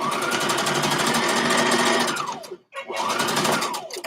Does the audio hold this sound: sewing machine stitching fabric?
yes